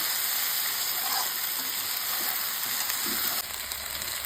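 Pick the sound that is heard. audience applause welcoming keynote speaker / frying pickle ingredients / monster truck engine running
frying pickle ingredients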